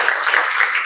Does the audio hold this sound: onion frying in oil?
no